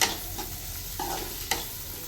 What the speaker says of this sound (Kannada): ನೀಟಾಗಿ ಇದನ್ನು ಗೋಲ್ಡನ್ ಕಲರ್ ಬರೋವರೆಗೂ ನೀಟಾಗಿ ಹುರ್ಕೊಳ್ಬೇಕು.